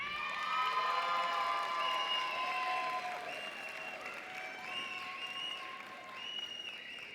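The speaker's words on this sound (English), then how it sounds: "another round of applause for our graduates" A crowd applauds graduates at a spring social work commencement ceremony, a sustained, even roar of clapping mixed with scattered cheers and shouts that holds steady for several seconds.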